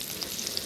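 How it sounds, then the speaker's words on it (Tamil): A brief burst of oil sizzling and crackling as fish fries, steady and close. "ஏய் நல்லா கொதிருச்சு. மீன் பொரிஞ்சிருச்சு."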